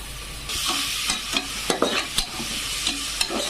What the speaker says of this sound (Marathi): कांदे ब्राऊन होईपर्यंत हलवून घ्यायचे